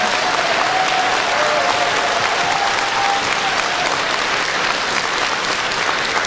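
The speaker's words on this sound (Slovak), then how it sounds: "to si zaslúži potlesk" Concert audience in Topoľčany applauding steadily and loudly, a dense even wash of clapping with a brief faint voice-like tone early on.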